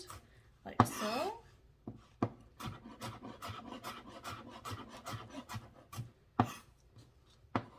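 Knife slicing through stacked tomatoes on a cutting board for fresh pico de gallo, giving soft irregular scraping and tapping strokes close up, with a brief louder rustle near the start.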